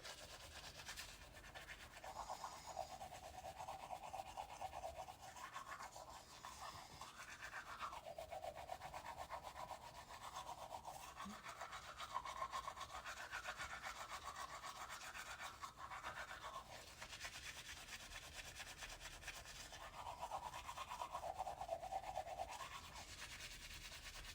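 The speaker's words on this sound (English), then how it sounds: "Brush these teeth." Someone brushes their teeth with a toothbrush, a faint, close, continuous wet scrubbing with rhythmic back-and-forth strokes that lasts the whole stretch.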